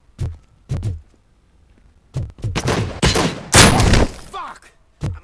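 Gunfire rings out in the Robocop Rogue City video game: two sharp isolated shots, then a dense burst of rapid fusillade blasts, with a final lone shot trailing after.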